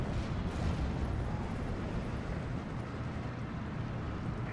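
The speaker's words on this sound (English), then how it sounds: "Drop some bombs down." Bombs dropped by a bomber in the WWII strategy game Steel Division 2 land as a continuous, heavy rumbling roar of explosions, loud and sustained throughout with no distinct separate blasts.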